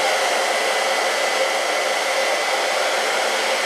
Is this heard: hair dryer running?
yes